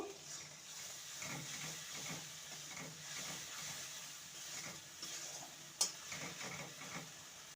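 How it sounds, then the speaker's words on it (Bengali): Mustard and poppy seed paste being stir-fried in a pan for an okra curry, a soft steady sizzle with faint scraping stirs and one sharp clink near the end, no talking. "বাটা ভালো করে কষিয়ে নেব"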